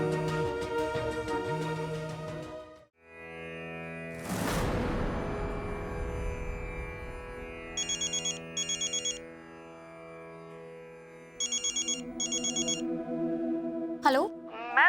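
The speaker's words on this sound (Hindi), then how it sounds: "नीता के हॉस्पिटल से फोन क्यों आ रहा है?" A phone rings in a Hindi TV drama as a call comes in from a hospital. Bursts of ringtone chirps repeat in pairs over a dramatic music score with sweeping orchestral swells.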